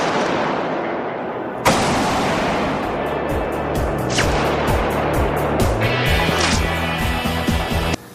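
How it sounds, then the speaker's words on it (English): A single rifle shot fired in a bullet drop-versus-fired test cracks loudly and sharply early on, then gives way to a sustained noisy wash with steady tones running underneath. "Bullet dropped versus fired."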